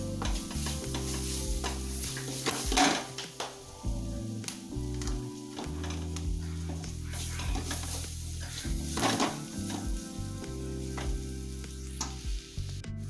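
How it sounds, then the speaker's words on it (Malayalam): Green chillies and curry leaves frying in a pan for a beef boti fry, stirred with a spoon that scrapes and clinks against the pan over a steady sizzle throughout, with no talk. "ഇതുപോലെ ഇളക്കി കൊടുക്കുക"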